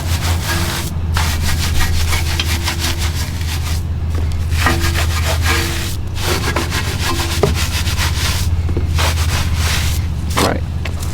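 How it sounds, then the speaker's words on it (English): A brush scrubs between the spokes of a car wheel in a steady series of rough, rhythmic rubbing strokes, close and continuous, with brief pauses between bursts. "I can also get in between these spokes right here, where another brush won't be able to get."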